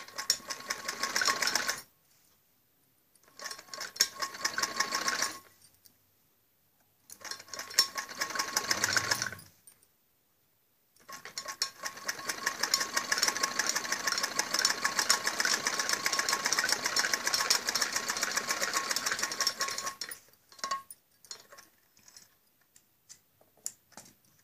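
A sewing machine stitches a padded blouse in bursts, its rapid mechanical rattle starting and stopping several times with short pauses before a long continuous run near the end.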